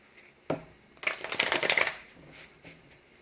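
Tarot cards being shuffled and handled: a sharp tap, then a dense riffling burst lasting about a second, followed by softer card rustles, close and clear with no talking.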